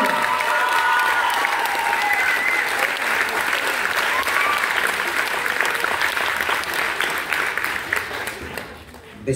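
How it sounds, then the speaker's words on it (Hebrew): Audience at a school graduation ceremony in Ashdod applauding, a steady wash of many hands clapping that continues for several seconds and thins slightly at the end, with a voice faintly underneath. "שוב, מחיאות כפיים לגיבורים שלנו."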